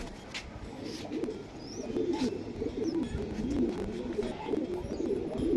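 Pakistani high flyer pigeons cooing in a loft, soft low coos repeating steadily against a busy background murmur, fairly close and moderate in level.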